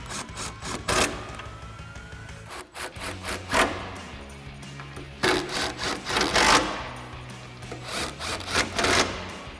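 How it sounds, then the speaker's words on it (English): An impact wrench with an 18mm socket and extension tightens tire carrier bolts on a Jeep Wrangler JK, giving repeated close bursts of rattling hammering separated by short pauses. "Go ahead and grab our 18mm socket and extension on our impact and tighten these down."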